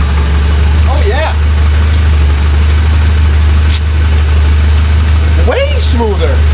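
A 1988 Dodge Raider engine idles loud and close with a steady deep hum, while people talk briefly over it in short bursts.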